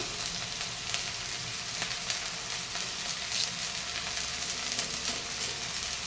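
Curry leaves frying in a pan alongside ridge gourd peel, giving a steady, close, dense sizzle that holds evenly throughout with no talking.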